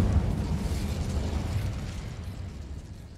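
A fiery burst from an Incendio spell cast in Hogwarts Legacy: a loud, rumbling whoosh of flame right at the start that slowly fades away over a few seconds, with no talking.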